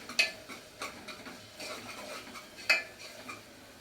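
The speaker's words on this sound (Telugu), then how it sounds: "దీంట్లో కట్ చేసి మాడిపోకుండా కలబెట్టుకుంటూ ఉండాలి." A spoon stirs tomatoes cooking down to a pulp in a pot, scraping and clinking against the metal in a steady rhythm, with two sharper knocks standing out. No one speaks.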